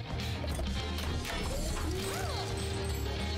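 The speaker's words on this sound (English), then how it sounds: "Oh my god, I keep dropping the stupid hammer." A hammer clatters as it is dropped in the Mechanic Heroes video game, a loud metallic crash amid continuous busy mechanical game noise, followed by a rising and falling electronic tone.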